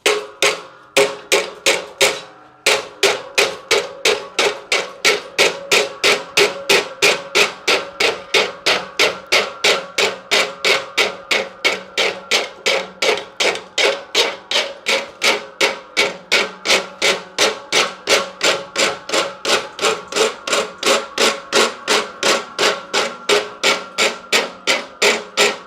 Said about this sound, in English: So now here, I will rasp the back of the wedge.